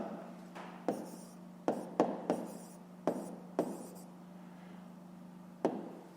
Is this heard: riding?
no